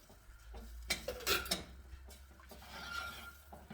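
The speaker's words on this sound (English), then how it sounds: "Don't forget to keep stirring, because this mixture needs to come together." A spoon stirring a honey glaze of honey, hot sauce and butter in a pot, quiet scraping and a few sharp clinks against the pot's side, with no talking.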